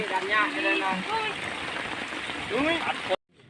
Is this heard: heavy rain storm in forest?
yes